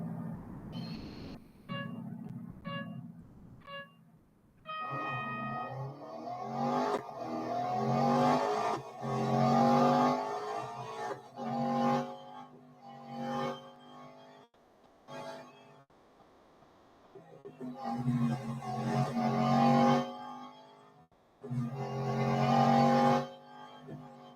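Aston Martin Vantage GTE 2018 racing through an autocross on Suzuka Circuit's East Circuit in Real Racing 3, engine revving up and down in repeated bursts with gear changes and brief lulls, loud and close throughout.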